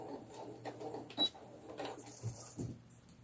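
A sewing machine backstitches along the seam of a rag doll's pajamas, a quiet run of rapid mechanical stitching chatter with a few brief clicks, close and with no talk.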